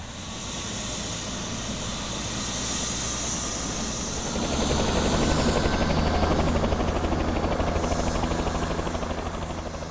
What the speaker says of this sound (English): The helicopter has taken game capture into a whole new era.